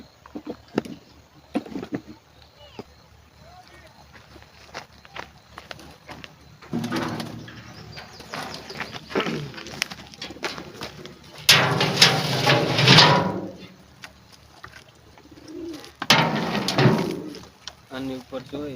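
Black and white pigeons sitting together in their pen coo softly, with a louder burst of cooing and fluttering midway. A person talks over the birds.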